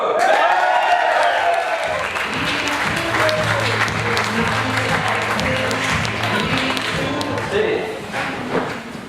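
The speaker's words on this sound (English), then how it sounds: "I'd like you to give a really big, rousing, stand-up cheer and welcome to Steve Piro." Stage welcome for Steve Piro at a Startup Grind event: a large crowd's loud, sustained applause and cheering fills the room, with some voices and thumps mixed in throughout.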